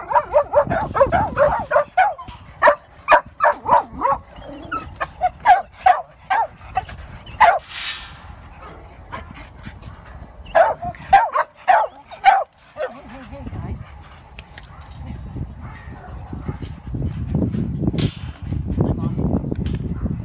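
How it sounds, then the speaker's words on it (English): A mother dog and her two six-month-old puppies bark in quick bursts, with sharp high yips and whimpers mixed in, close by, and some rustling between the barks. "these are the two puppies with their mom"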